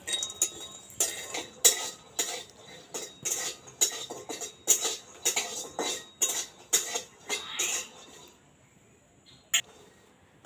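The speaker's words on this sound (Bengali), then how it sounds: "চিনে বাদামটা ভালোভাবে ভাজতে লাগবে একটু নাড়িয়ে চাড়িয়ে" Peanuts dry-roasting in a wok, stirred in quick bursts that give rapid rattling and clinking of nuts against metal, close and fairly loud, with the stirring stopping near the end.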